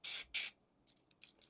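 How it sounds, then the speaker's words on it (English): Two short, close bursts of spray as silicone gun oil is applied to a Glock pistol part, followed by softer, quieter hisses and light handling sounds. "I take my silicone gun oil, pull that forward, and this bit here, just give that a little bit of a spray"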